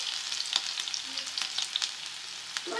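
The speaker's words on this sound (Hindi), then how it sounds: "अच्छा, लहसुन ने बदल लिया है कलर, अब मैं शामिल करती हूँ प्याज" Onions sizzling as they go into a pan of frying garlic and garam masala for mixed dal, a steady crackling fry with light stirring clicks, close and moderately quiet, no talking.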